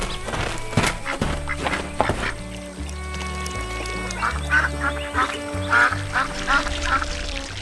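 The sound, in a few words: white goose splashing and calling in cartoon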